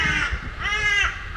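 A crow gives a couple of loud, rasping caws close by in the open air, over a low rumbling background.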